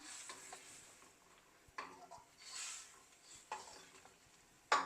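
Spoon stirring coconut milk into an elephant yam masala in a pan, soft scraping strokes over a faint sizzle, fairly quiet with a sharper clink at the end.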